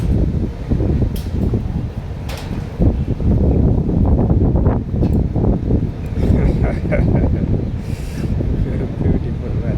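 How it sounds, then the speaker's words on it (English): Strong wind buffets the microphone at an outdoor tennis court in Jaipur, a steady loud roaring rumble throughout with gusty swells, while people talk underneath. "So they will wait for the wind to settle."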